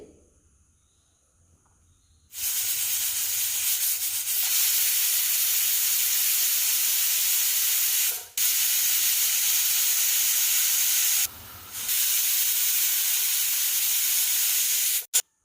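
A pressure cooker cooking foxtail millet upma vents steam in a loud, continuous hiss that runs for many seconds, broken by two brief pauses.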